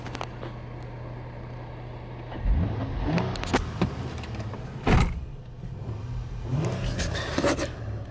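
A 2008 Acura TL with 121K miles idles steadily in a salvage yard, a low continuous engine hum running throughout, with a few brief clunks and thuds of doors or switches over it.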